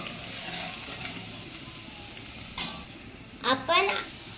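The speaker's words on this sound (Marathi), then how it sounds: "आता आपण कांदा टाकू जो आपण ऑलरेडी कापलेला होता। आता आपण ह्याला हलवून घेऊ।" Chopped onion stirred in hot oil in a pan for sambar, a low steady sizzle with a couple of louder scraping stirs of the spoon near the end.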